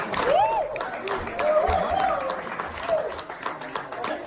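Comedy club audience applauding for a New York stand-up set, a steady wash of clapping with a few whistles rising over it. A host's voice carries through the clapping.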